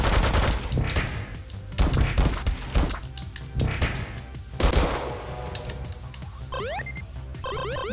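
Video game machine gun fire in Megabyte Punch rattles in rapid repeated bursts with thuds and crashes, loud and close, ending in electronic zapping sweeps.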